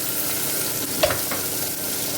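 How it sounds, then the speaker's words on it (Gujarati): Washed cluster beans (guar) drop into a hot pan for guvar dhokli, setting off a loud continuous sizzle with a couple of brief stirring clatters near the middle. "અને આ જે આપણે ગુવાર સિંગ ધોઈ છે તે અંદર નાખી દેવાની છે."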